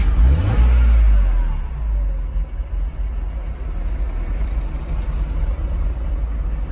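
A Mercedes C36 AMG inline six fires up with a deep burst and quick rev, then settles into a low, steady rumbling idle that stays loud and close throughout.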